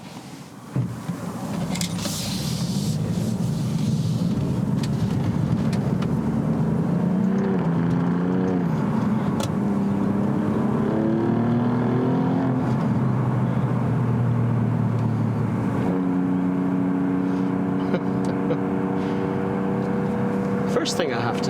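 An Alfa Romeo Giulia Quadrifoglio in dynamic mode accelerates hard, heard from inside the cabin: the engine note climbs repeatedly in pitch through the gears over constant road rumble.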